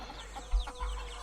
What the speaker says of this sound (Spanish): donde cantan los pollos y las gallinas también suenan